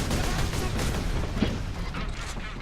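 A bomb squig, an Ork explosive creature in Warhammer 40K: Space Marine, going off as a dense, sustained roaring blast of rumbling noise filling the whole moment, loud and close with no clear separate hits.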